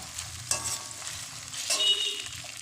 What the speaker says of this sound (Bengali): তো তেলের উপরে আদা রসুনটা আমি একটু ভেজে নিচ্ছি